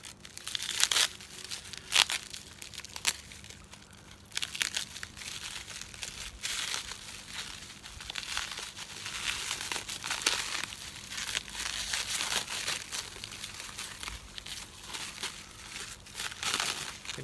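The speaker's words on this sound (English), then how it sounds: "I'll get the tape off it to show you." Tape and cling film peeled off a small mail-order garden plant package wrapped to hold in the soil, with close, continuous crinkling and tearing plastic rustles and a few sharper crackles, alone without talk.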